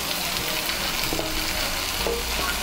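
Fried coconut and peanuts are stirred into simmering taro greens, a dense steady sizzle with a couple of soft spoon scrapes against the pan.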